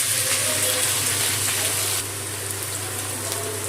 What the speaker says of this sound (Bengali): পেঁয়াজ খুব ভালো করে ভেজে নিয়েছি, লাল করে পেঁয়াজটা ভাজা হয়ে গেছে